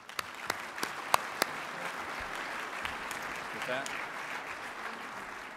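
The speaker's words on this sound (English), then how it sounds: "So let's give our panelists a round of applause." An audience applauds panelists at a Greater Oklahoma City Chamber legislative breakfast panel discussion, clapping steadily throughout, a dense wash of applause with a few sharper claps standing out near the start, while a voice speaks briefly underneath.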